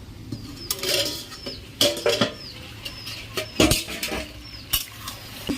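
Duck curry with potatoes and eggplant stirred in a pot, a spoon scraping in irregular bursts over a soft steady sizzle, with faint bird chirps in the background.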